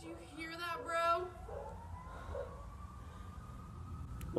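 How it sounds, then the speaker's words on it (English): Sirens outside a house, a single rising and sustained wail heard at a distance after a burst of indoor speech, faint under background noise. "Right when she came out, she heard sirens."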